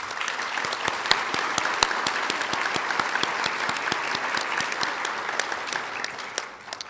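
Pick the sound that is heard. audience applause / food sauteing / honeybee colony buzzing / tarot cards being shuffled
audience applause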